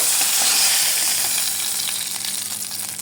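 Hilsa fish pieces fry lightly in hot oil, giving a loud, steady sizzle and crackle up close that eases off slightly toward the end, with no talking.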